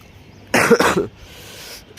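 A person who is unwell coughs lightly, a short close burst of two or three rough coughs, then a quiet background hum.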